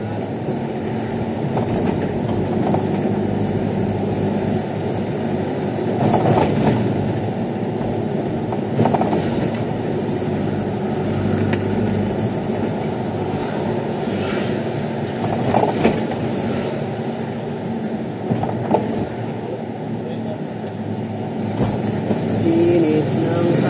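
An LRT train runs through Manila with a continuous rumbling roll and faint rhythmic clatter, heard from nearby over the whole stretch along with occasional road traffic.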